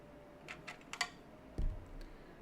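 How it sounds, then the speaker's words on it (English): Sharp-edged dice handled and rolled across a surface, giving a scattered series of light, crisp clicks and taps with one heavier clack, close up and fairly quiet, with no talking. "You're gonna hear some dice ASMR."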